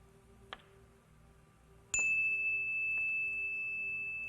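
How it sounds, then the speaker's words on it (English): A single bright meditation bell strike rings out clearly and then sustains with a long, slowly fading tone over a quiet background, after a faint earlier tap. "As the sound of the bell fades into the distance"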